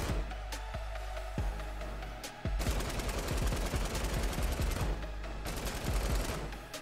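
Repeated hunting-rifle shots in the Fortnite video game, sharp loud cracks spaced irregularly with a dense, busy burst of gunfire through the middle, over constant game background noise.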